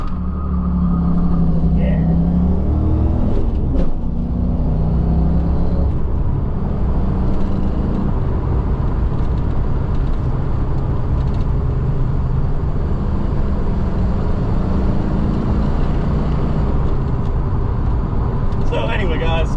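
A 1990 Ford Mustang Fox body engine pulls away after the clutch is let out, a loud, steady, close engine rumble with road noise that holds for the whole stretch.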